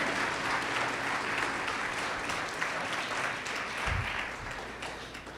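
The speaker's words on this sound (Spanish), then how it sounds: "Dale un fuerte aplauso a Dios." A church congregation gives a loud, sustained round of applause to God during a sermon, with dense, steady clapping filling the room and no talk over it.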